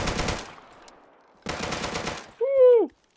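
A P90 submachine gun fired in the shooter game Deadside, in two short rapid bursts separated by a brief pause, loud and close. A short high electronic chirp follows.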